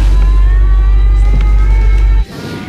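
Loud, steady engine and road rumble inside a car on a test drive, holding constant for about two seconds before dropping off abruptly to a quieter hum.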